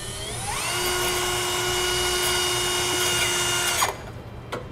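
A power drill spins up and bores into a pickup truck bed directly above the axle, marking the center for a 3.5 inch hole saw; a steady loud whine runs for several seconds before winding down.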